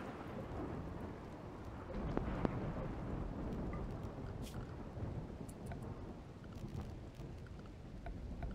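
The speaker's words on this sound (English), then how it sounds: "Finally, a thunderstorm." A thunderstorm in RimWorld over a cold bog, with steady heavy rain hissing throughout and low rumbling thunder rolling underneath, a few sharper crackles standing out, fairly distant and continuous.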